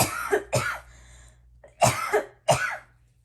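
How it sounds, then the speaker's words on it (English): Four sharp coughs, close and fairly loud, in two pairs separated by a short pause, with no talking. "You know when you have like a tickle in your throat and you can't like stop it, so that makes you cough?"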